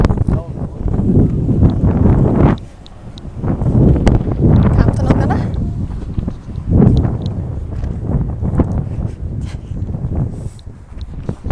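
Steady wind rushing and buffeting against the microphone outdoors in England, loud and continuous with gusty swells, with some voices faintly in the background.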